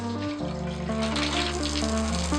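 Water runs steadily from an outdoor shower in an off-grid forest setting on Lasqueti Island, British Columbia, a constant close hissing spray with a low hum underneath and no talking.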